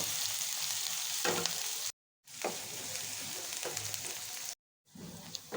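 Onions fry in a pan while being stirred, a dense close sizzle with occasional spatula scrapes, cut by two brief gaps of silence.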